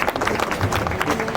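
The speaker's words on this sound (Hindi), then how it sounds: "उनके लिए एक बार जोरदार तालियों से स्वागत" A short burst of loud, dense clapping from an audience welcoming guests at an academy launch ceremony, with crowd noise mixed in.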